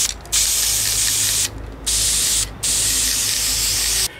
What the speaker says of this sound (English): Now I'm personally going to paint these because I want this to be more of a cast iron look